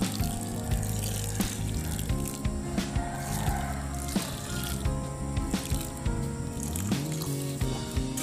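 Liquid microorganism solution made from fermented tape pours and splashes onto potting mix, a steady wet stream with irregular squishy spatters and thuds, close and fairly loud, no voices.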